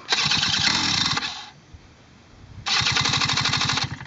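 A Doodle Bug mini bike's small engine, started on full choke, catches and runs with a loud, rapid buzzing chug, cuts out into a brief near-silence, then fires up again just as loud.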